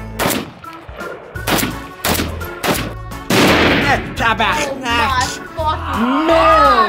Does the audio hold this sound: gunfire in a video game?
yes